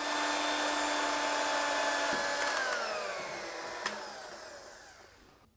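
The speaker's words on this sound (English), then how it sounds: "You want to make sure that you keep on whisking on full power until your bowl is cool to the touch." An electric mixer whisks egg meringue on full power, a steady high whirring whine that holds level and then winds down as the motor is switched off, heard alone at moderate volume.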